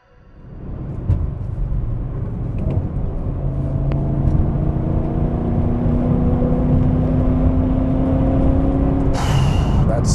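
A BMW E39 M5 engine sustains a loud, steady rev with a deep droning tone. A sharp burst of noise cuts in near the end.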